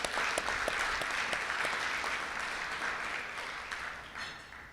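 An audience at a Rotary club meeting claps steadily for several seconds, a dense, even patter of many hands that slowly thins toward the end, heard from within a moderately sized room.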